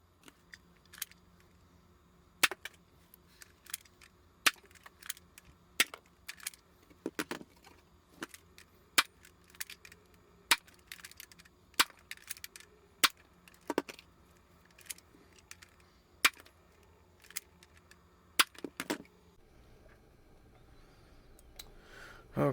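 A Nerf Hammerstorm blaster with an upgraded spring fires Elite darts, eight shots in a row. Sharp, fairly faint mechanical snaps and clicks sound at irregular intervals over a quiet background.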